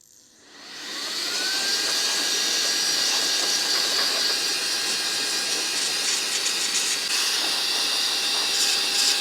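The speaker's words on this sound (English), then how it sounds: "I'm actually gonna test this blower part out and see if it'll actually clean that fan" Saker 3 in 1 cordless vacuum cleaner in blower mode blasting out a dusty fan, a motor spinning up within a second into a loud, steady airy whine and hiss that holds throughout.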